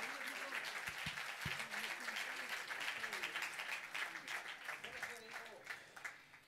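Audience applause greeting a jury member at an evening event, a steady patter of many hands with a faint voice under it, thinning toward the end.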